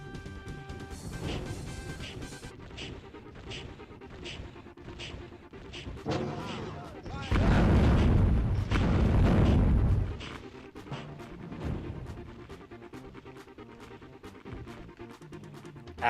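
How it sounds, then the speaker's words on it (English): Firebomb and rocket explosions in a video game, with a long deep roaring blast in the middle amid sharp crashes, booms and an intense game soundtrack. "The firebomb is a cooking man's rocket launcher."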